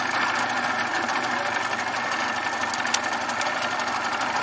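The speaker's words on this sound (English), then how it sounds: "So that's an old motor." Old boat motor running on a river ride, a steady, close mechanical drone with a rapid even chug that holds without a break from start to finish.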